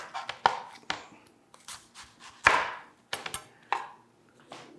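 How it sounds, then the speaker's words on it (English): A chef's knife chops the ends off an onion on a cutting board, a series of sharp, close knocks at an uneven pace with a few quieter scrapes and handling sounds between them. "I'll show you a trick on cutting onions."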